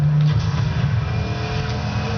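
A car in the Midnight Club LA video game accelerates on a top speed run, its engine droning loudly and steadily with a rising whine throughout.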